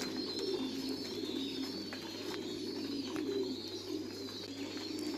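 American giant pigeons coo steadily at a farm pigeon house, repeated low throaty calls over constant bird chatter and a continuous background hum.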